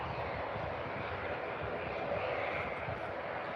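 An Aer Lingus ATR turboprop taxiing at Birmingham airport, a steady broad engine drone held at an even level.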